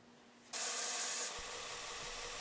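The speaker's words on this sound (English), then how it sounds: "I'm using a 2" by 72" variable speed belt sander for this operation" Wood knife handle pressed against a 2" by 72" variable speed belt sander running slowly, a motor hum that jumps into a loud, bright abrasive hiss when contact starts, then settles to a steady grinding rasp.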